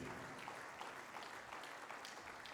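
Sunday church congregation clapping in praise, a faint, distant, even patter of many hands that continues without a break.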